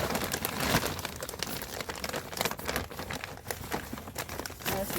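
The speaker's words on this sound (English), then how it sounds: "Let me get some more soil. Go ahead and fill this to the top." Potting soil pours and crumbles into a planting pot, a close, grainy patter and crinkle that rises and falls in uneven bursts for several seconds.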